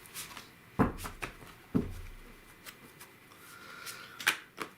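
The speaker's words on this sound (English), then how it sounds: "I'm taking big, massive cards and shuffling them." Large oversized cards being shuffled at a quiet indoor table, giving a few sharp riffling snaps and soft slides spread across the moment.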